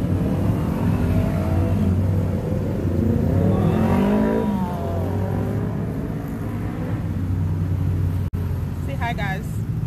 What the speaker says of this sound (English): We took tuk-tuks back to the cooking school